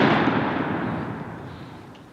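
A shotgun fires at ducks during an outdoor duck hunt. The clip opens on a loud report that decays into a long, rolling echo.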